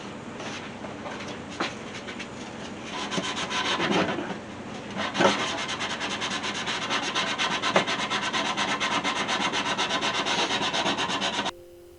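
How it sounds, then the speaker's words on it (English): Steady, continuous sanding of a wooden Lego display case, a dense scratchy rasp that runs for most of the clip with a few louder strokes, then stops abruptly near the end. "I'm going to keep sanding."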